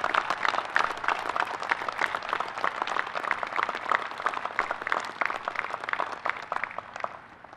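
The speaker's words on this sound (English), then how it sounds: "Would you please join me in a round of applause for the members of the Class of 2020" An audience at a Coast Guard Academy ceremony gives a sustained round of applause for the Class of 2020, dense clapping from many hands that holds steady and then thins out at the end.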